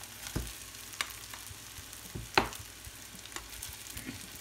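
Cooked rice is stir-fried in a pan for restaurant-style chicken fried rice, a quiet sizzle with scattered sharp scrapes and taps of a spatula, one louder clatter near the middle, no voices.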